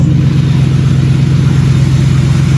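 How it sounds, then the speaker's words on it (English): Used Ford F-150 with a 4.6 V8 and a Flowmaster-style exhaust running steadily, a deep, loud, even low rumble close by throughout, with no voices. "Starts up. Sounds like it's got a Flowmaster exhaust on it."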